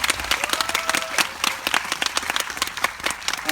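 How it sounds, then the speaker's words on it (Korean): A theatre audience at a special screening of the film Hedwig applauds its guests, many hands clapping in a dense, lively burst that holds steady throughout, close and fairly loud with no talking. "마지막까지 정말 좋은 이야기 해주신 두 분께 큰 박수 한번 부탁드리겠습니다."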